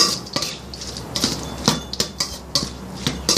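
Wing bean salad is tossed with chili paste and seasonings in a bowl: a utensil clinks and scrapes against the bowl in quick, irregular strokes, close and clear with no talking.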